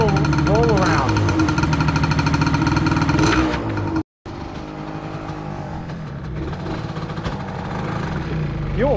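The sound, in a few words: choked engine of a Cub tractor running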